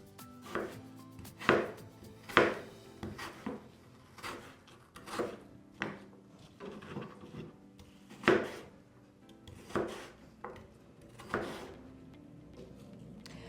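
A knife chops apples on a board, about a dozen crisp, close strikes in an uneven rhythm separated by quiet gaps, with nobody talking.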